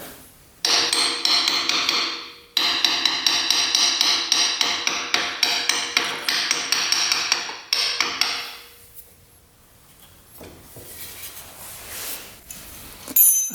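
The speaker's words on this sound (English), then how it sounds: "That's rusty. Just kind of tap on it." A hammer taps repeatedly on a rusty part of a 1940s motorcycle, a fast run of sharp metallic strikes with a short pause, then fainter scraping and handling noises toward the end.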